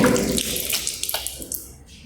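Tap water splashing briefly at a mosque ablution area in Urgench, close and uneven, fading out within two seconds.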